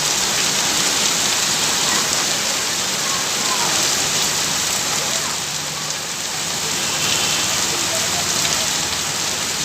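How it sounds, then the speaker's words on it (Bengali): Heavy rain pours during a night-time Kalbaishakhi storm in Bardhaman, a dense, unbroken roar of downpour that holds at a constant loud level throughout. "দেখো কেমন বৃষ্টি হচ্ছে জোর"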